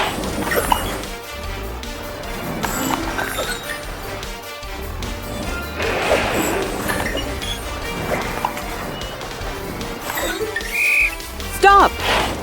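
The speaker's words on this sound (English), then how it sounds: "When Torch blows his whistle," A cartoon whistle is blown during a children's counting game with a bulldozer and an elephant. One short, bright toot comes near the end over busy background music and playful sound effects.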